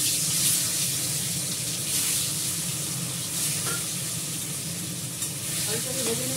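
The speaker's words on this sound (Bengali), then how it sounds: "আলুটাকে ফ্রাই করবো।" Potatoes fry in a pan for biryani, a steady close sizzle of hot oil with intermittent scraping and stirring clatter, running continuously without speech.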